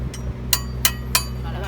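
A hammer strikes a ductile iron pipe fitting during field replacement of a damaged gate valve, giving three sharp, evenly spaced metallic knocks, plus a faint earlier tap, over a steady low mechanical hum.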